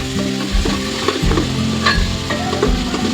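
Onion sizzling in a hot oil tempering of cumin, mustard seeds, curry leaves and garlic for misal pav, a steady close frying hiss with repeated stirring scrapes and no talk.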